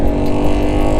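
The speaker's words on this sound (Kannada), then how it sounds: "ಅಲ್ಲ ಇನ್ನೂ 2 ಗಾಡಿಗಳು ಬರ್ತೈತೆ." Vehicles pass close by on a road during a ride to Yercaud, their engines making a loud, continuous rumbling drone that holds steady throughout, with no talk.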